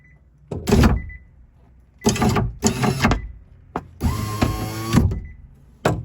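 Car power window grinding harshly as it goes up, heard as four separate loud mechanical bursts with gaps of silence between them, the last and longest carrying a strained whine.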